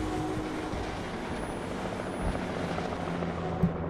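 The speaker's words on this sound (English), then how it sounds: "A chopper." Helicopter in the video game Alan Wake, a steady rotor drone sustained throughout and fairly loud, with a brief knock near the end and no talk.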